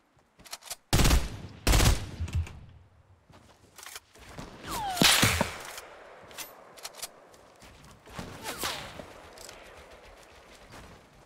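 A turret fires in a video game in rapid bursts of sharp gunshots, loud and close at first, then scattered shots and rattling sounds trailing off.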